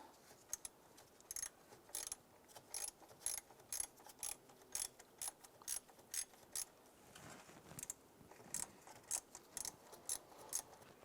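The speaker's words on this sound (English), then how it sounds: "We're going to use our deep socket and short extension. Let's go ahead and loosen that bolt." Ratchet with a deep socket and short extension loosening a 10mm intake manifold bolt below the throttle body of a 2011-2019 Ford Fiesta: quick, close bursts of ratcheting clicks repeating steadily, with no talk.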